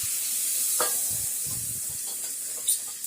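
Cherry tomato curry being tempered in hot oil in a home kitchen, giving a soft, steady sizzle and hiss with a few faint stirring scrapes and one brief sharper clink near the end.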